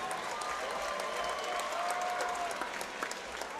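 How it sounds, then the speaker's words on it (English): Crowd applause after a three-round flyweight bout at a Chosen Few Fighting Championship event, a steady dense wash of clapping filling the hall at even loudness throughout. "one more round of applause for a great flyweight fight."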